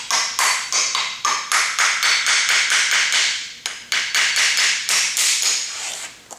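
Parts being hammered tightly back into a plastic injection mould in a tool workshop, a rapid steady series of sharp metallic taps, loud and close, with a brief pause midway.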